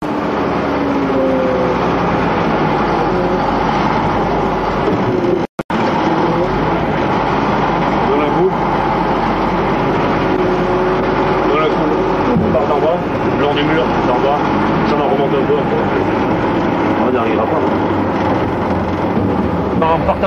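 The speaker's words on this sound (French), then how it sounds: "le chasse-neige nettoie le passage en sens inverse" A snowplow clears a mountain road in the Vercors, heading the opposite way, with a loud continuous engine and scraping roar that runs through almost the entire span, broken by one brief dropout.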